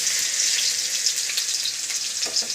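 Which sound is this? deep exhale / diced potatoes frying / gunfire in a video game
diced potatoes frying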